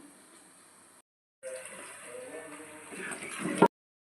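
A short splash and steady trickle of hot water being poured onto a plate, building slightly before cutting off abruptly, with a faint voice nearby.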